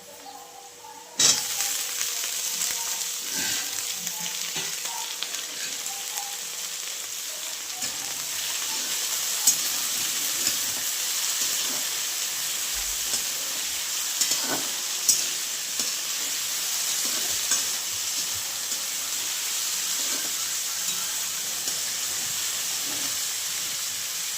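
Potatoes and green chillies fry in a hot pan with an even, continuous sizzle and hiss, broken by occasional clinks and scrapes of a stirring spoon.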